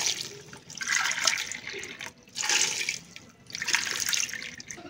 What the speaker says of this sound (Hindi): नौ कप पानी शामिल करेंगे।